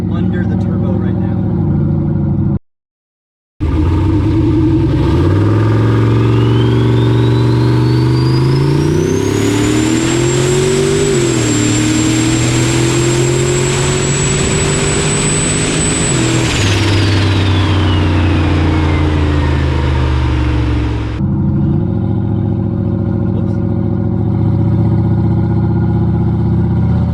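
Turbocharged LS engine in a GMC Envoy revs hard and long, with a rising whine climbing to a high sustained pitch before falling away, then settling back to a rough idle; loud and close throughout.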